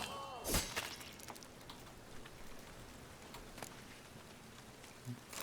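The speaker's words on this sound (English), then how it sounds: "It only ever rains these days." Rain falls steadily in Witcher 3: Wild Hunt, a soft, continuous patter with one brief sharp crack near the start and occasional faint drops.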